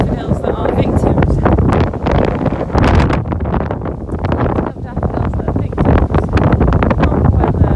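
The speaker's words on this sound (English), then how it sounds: "it is very windy" Strong wind gusting across a Peak District sheep farm in lambing season, roaring and buffeting the microphone continuously and loudly throughout, with someone speaking underneath the rumble.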